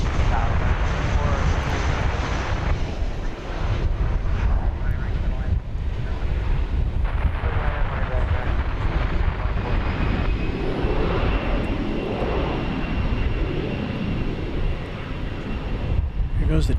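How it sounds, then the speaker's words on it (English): An American Airlines Boeing 737-800 arriving from Puerto Vallarta, Mexico, roars loudly and steadily at DFW Airport, a broad jet rumble that holds the whole time, with wind buffeting and a voice talking underneath. "We have an international flight from Puerto Vallarta in Mexico. American Flight 1215,"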